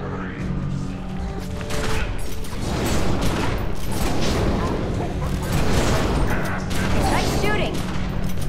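Heavy gunfire and booming blasts in The Secret World, a dense, continuous barrage that stays loud throughout.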